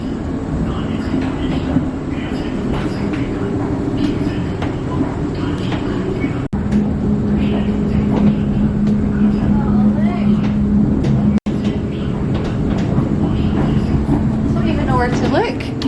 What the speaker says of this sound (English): The trains are very small.